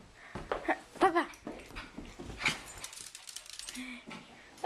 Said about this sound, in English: so that's my playful little puppy